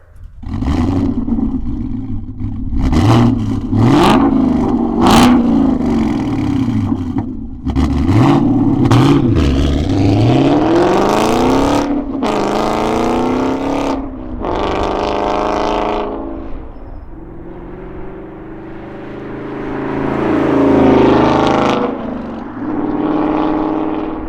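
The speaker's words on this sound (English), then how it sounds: "Let's get the Mustang on the road, see what it sounds like." A loud Ford Mustang GT V8 with an MBRP 3-inch race cat-back exhaust revs and accelerates repeatedly on the road, deep exhaust roars rising and falling, then a steady cruising rumble that swells again near the end.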